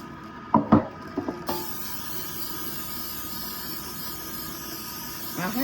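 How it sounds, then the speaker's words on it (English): Cooking spray is sprayed onto metal loaf pans. After a few knocks of the pans being handled, a long, steady hiss of the spray runs close and continuous. "All right, we're gonna spray these pans really good."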